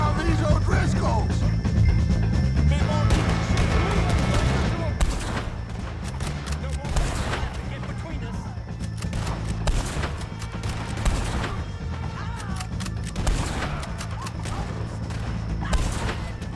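Gunfire in the video game Red Dead Redemption 2 during a fight with the O'Driscolls, with repeated sharp shots and volleys crackling over a continuous rumbling background, some near and some farther off.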